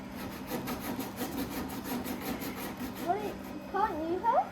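Rhythmic back-and-forth rasping of sandpaper on wood on a 25 ft Bertram boat, repeated strokes close up, with a voice chiming in near the end.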